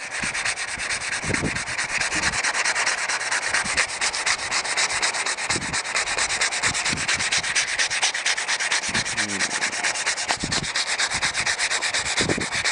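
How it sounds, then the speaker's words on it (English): Sandpaper rubbed over the painted surface of a homemade DIY shofar horn, a continuous close, rasping scrape with rapid back-and-forth strokes and occasional soft knocks of handling. "Now what we're going to do is just sand over it."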